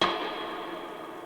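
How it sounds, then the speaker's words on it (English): A reverby impact sound effect played in reverse in an EDM track, starting at full loudness and holding as a broad washy tail that fades only slightly over about a second, heard alone. "This one's obviously a nice reverby impact"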